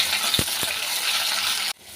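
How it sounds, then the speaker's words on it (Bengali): Eggplant pieces frying in oil in a pan, giving a steady close sizzle with a couple of brief low knocks near the start before it cuts off abruptly. "বেগুনটা ভালো করে ভেজে নিয়ে যাবে"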